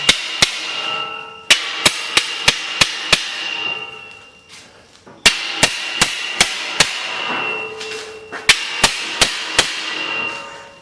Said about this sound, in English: Let's get that hammer and let's tap that down in there